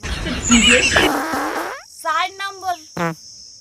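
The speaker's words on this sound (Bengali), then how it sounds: "পায়খানার পরিবর্তে এই পাদ" A comedy fart sound effect: a loud, rough blast lasting over a second, followed by a string of shorter, buzzing, tonal sputters and a final brief squeak, standing alone with no talk.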